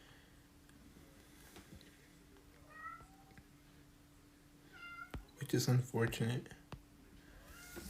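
A pet cat meows at a door to be let in, several short plaintive cries scattered through the clip, then some louder knocking or scraping near the end, with a person speaking over it.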